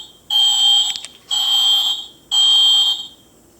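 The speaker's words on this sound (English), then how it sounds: "there is a fire drill bell, which is this one" A toy fire drill bell in a doll classroom sounds off in three loud electronic alarm pulses, each lasting close to a second. The pulses are sharp and shrill, with brief pauses between them.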